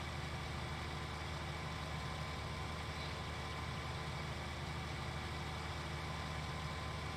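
A tractor engine in the farming game Farming Simulator 19, a steady low idling drone that holds evenly throughout, quiet and unbroken, with no talk over it.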